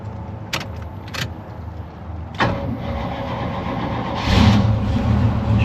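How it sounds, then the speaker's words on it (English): A Chevy S10 square body pickup engine cranks in short bursts, then catches near and loud into a rough, rowdy running rumble that swells as it revs. "We should be ready to fire up."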